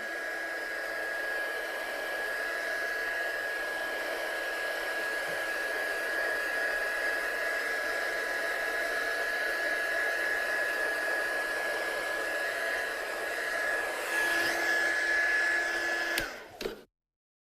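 A heat tool blows steadily over freshly embossed ink on a handmade card, a constant close whirring hiss with a faint whine that runs unbroken before abruptly switching off.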